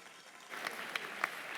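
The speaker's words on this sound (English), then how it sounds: "warm round of applause" A crowd breaks into steady applause that builds and continues, clapping filling the space with no talking over it.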